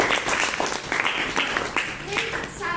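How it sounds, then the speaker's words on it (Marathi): A classroom audience applauds a pupil, a dense burst of many hands clapping that carries on for a few seconds with voices mixed in underneath. "सगळ्यांनी सार्थकसाठी एकदा टाळ्या वाजवा."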